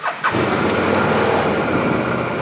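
A car engine cranks and catches after a brief moment of quiet, then settles into a loud, steady, smooth idle that continues to the end.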